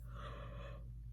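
A single breathy yawn, close and quiet, drawn out for just under a second before trailing into near silence.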